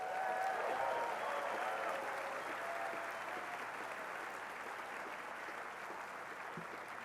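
Applause from a commencement audience at Claremont McKenna College honoring faculty, a broad sustained clapping heard from a distance that stays fairly even and slowly tapers.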